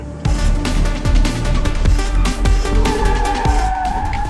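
A stunt car performs a skidding manoeuvre, its engine revving loudly and close with tyres screeching and rising in pitch, while repeated thuds and rattles punctuate the run.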